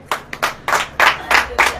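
A church congregation claps in a quick run of sharp, separate bursts, close and fairly loud, with short gaps between them and no talking over it.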